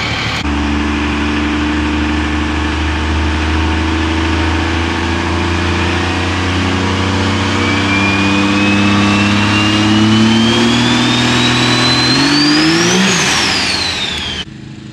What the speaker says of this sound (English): this is the only Mega Cab you're going to see moving out